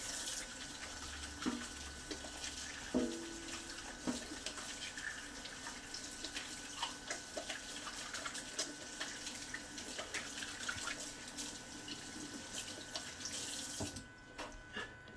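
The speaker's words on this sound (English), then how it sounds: "Let's wash my hands." Kitchen tap running while hands are washed, a continuous close hiss of flowing water with small splashes and shifts as hands move under the stream, cutting off abruptly near the end.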